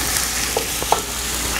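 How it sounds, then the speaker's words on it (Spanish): Green onion and tomato sautéing in oil in a pan for beans, a continuous loud hissing sizzle close up, with a few brief pops and a utensil tap, no voices. "Y lo vamos a sofreír más o menos por unos 3 minuticos así."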